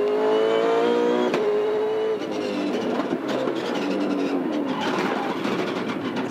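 Onboard a V8 Supercar at the 2013 Auckland 400 race, the engine overruns with a loud, high droning note that drops in pitch and gives way to a rougher, fluctuating roar.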